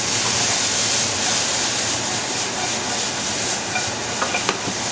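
Cabbage and chicken stir-fry for yakisoba in a hot pan, a steady close sizzle with faint stirring clicks near the end and no talking.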